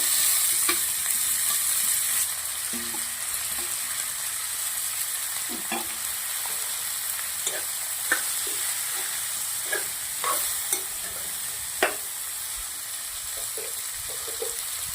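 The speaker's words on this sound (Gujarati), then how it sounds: "કંકોડા છે કંકોડાની તેલના અંદર પધરામણી કરી દઈશું" Steady hissing sizzle of spiny gourd (kankoda) frying in hot oil, with occasional pops and crackles and faint stirring clatter.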